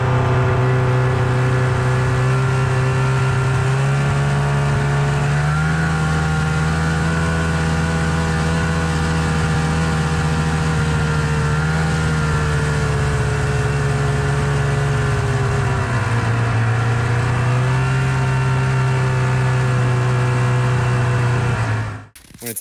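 A two-stroke snowmobile engine fitted with an MBRP trail can exhaust holds a loud, steady drone close by, its pitch rising and falling a few times before cutting off abruptly at the end.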